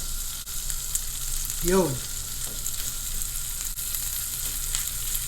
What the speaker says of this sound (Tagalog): Mainit na mainit po yung ating kawali at magtunaw tayo ng konting butter. Tsaka natin ilagay itong ating isda at tsaka tokwa.